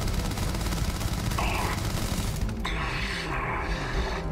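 Rapid automatic gunfire in the Starfield video game, dense bursts of shots running continuously and loudly over game effects and background sound.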